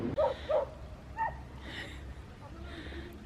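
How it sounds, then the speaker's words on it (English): On a quayside walk in Appledore, a very excited dog gives a few quick yips and barks close by, followed by soft whimpering noises amid light background sound. "A very excited dog"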